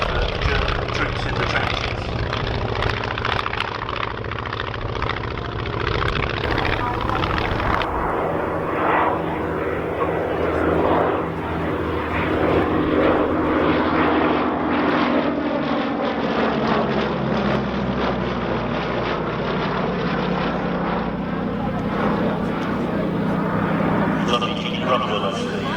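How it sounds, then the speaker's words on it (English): A vintage Westland Lysander with a Mercury radial engine flies at the Shuttleworth airshow. Its loud, sustained propeller drone holds steady for the whole clip and shifts in tone as it passes, under an announcer's commentary. "full of the Mercury engine up front on the Lysander, and that very peculiar wing in platform there against the blue sky"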